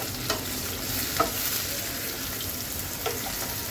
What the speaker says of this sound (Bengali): পেঁয়াজ কুচিটা একটু ভেজে দিব